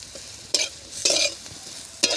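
Neem leaves and eggplant are stirred in a hot wok, three quick scraping strokes over a steady background sizzle, close and fairly loud.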